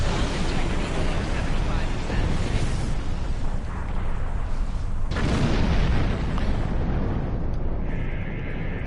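Torpedo fire and explosions from Star Trek Online, a ship firing from behind: dense, continuous booming rumble with bursts, one sharp blast near the middle, all loud and sustained.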